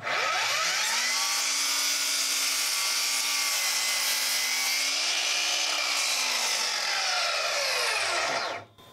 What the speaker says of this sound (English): Now let's plunge through a 2x4 sitting on its edge.